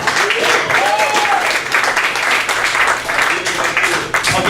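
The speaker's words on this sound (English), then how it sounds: "Some of you have not clapped all night." A comedy club audience in Hoboken gives sustained applause for a stand-up comedian, a loud, dense wash of clapping that carries on throughout, with a few voices mixed in.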